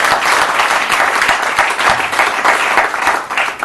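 An audience at a stage hypnosis show gives a volunteer a round of applause, loud close clapping from many hands in a dense, continuous burst.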